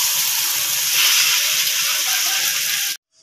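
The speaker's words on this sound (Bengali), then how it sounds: "মাছগুলোকে আমি এক সাইড করে ভেজে নিয়েছি, আরেক সাইড ভাজবো।" Pieces of catla fish sizzle steadily in hot oil, a loud, close, dense frying hiss that holds continuously for about three seconds and then cuts off abruptly.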